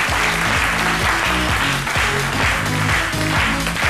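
A television studio audience applauds loudly and steadily, dense clapping filling the space over background music with a repeating beat.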